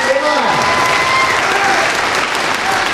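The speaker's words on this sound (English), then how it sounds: "all right, folks, big round of applause" Loud, dense audience applause at a spring speech night, with steady clapping sustained throughout and a few voices and cheers mixed in.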